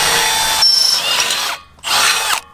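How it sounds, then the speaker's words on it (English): A power drill with a drill bit bores holes for a DIY skatepark build, roaring loud and close in two bursts with a short pause between them and a whining pitch shift as the bit cuts through. "Oh, straight through like nothing. When we first were doing this, we had the wrong drill bit."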